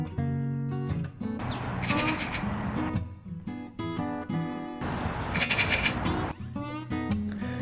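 Harsh, chattering calls of a black-and-white long-tailed corvid, the Eurasian magpie, come in two loud bursts of repeated raspy notes, close by, with other birdsong behind.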